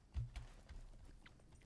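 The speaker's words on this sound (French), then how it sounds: "On fait du cheval." Horse hooves clopping while riding in the Lord of the Rings Online video game, a few soft irregular thuds near the start fading into a quieter low rumble, with no talk.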